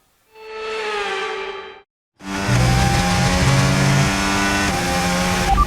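Formula 1 race car engines in the F1 25 video game: one car screams past with a steady high-pitched whine, a short gap, then a loud sustained roar of several cars at full throttle, with shifting pitch as they accelerate.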